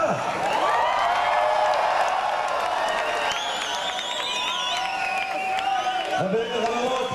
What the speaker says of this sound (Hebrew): מחיאות כפיים לרטע.